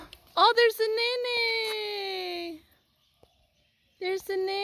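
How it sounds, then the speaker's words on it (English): Nene, the Hawaiian goose, calls at Panaewa zoo in Hilo in a few loud, close, nasal honking bursts, then a pause before another short burst. "There's a nene bird."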